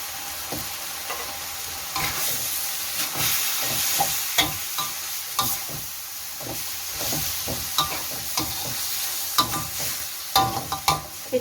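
Pork liver stir-fried with holy basil in a pan, a continuous close sizzle punctuated by repeated spatula scrapes and clacks in an uneven rhythm, loud and without talk.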